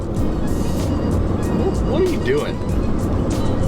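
A truck drives with a steady, loud broadband engine and road rumble throughout, while people talk briefly over it.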